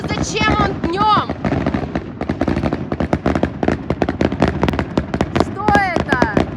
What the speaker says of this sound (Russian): Салют! Днем!